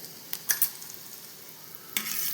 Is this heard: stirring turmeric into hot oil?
yes